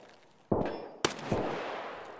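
Gunfire in Escape From Tarkov during a fight against Reshala and his guards: a few sharp, loud shots spaced apart, each one ringing and echoing off into a lingering tail.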